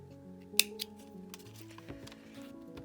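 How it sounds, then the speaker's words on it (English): Scissors cutting a long length of twine, a sharp close snip followed by a second smaller one, then faint clicks over a low steady hum. "So I'm just going to snip off quite a nice long length of this."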